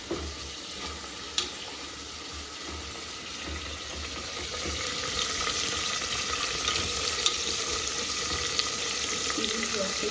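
Onions sizzle and fry steadily in a pan for chicken Ambur biryani, a continuous soft crackle that grows a little louder midway, with occasional clinks and no voices.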